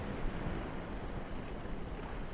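Ocean waves washing onto a sandy beach, heard as a steady, continuous wash of surf with no distinct breaks, moderately loud and filling the background, with no voices.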